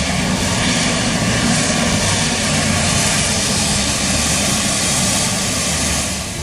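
A military jet of the Indian Navy's fleet, such as a MiG-29K, flies overhead. Its engine roar is loud and unbroken, a dense steady rush that fills the whole clip.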